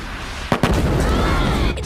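Cartoon explosions blasted by an attacking cyborg in a Ben 10 style animated scene: two sharp booms close together followed by a roaring, rumbling blast that carries on, with a final thud near the end.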